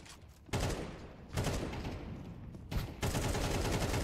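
Rifle spray fire in Counter-Strike 2 during a PGL CS2 Major Copenhagen 2024 RMR match comes in three dense, loud bursts of rapid shots, separated by brief quieter gaps.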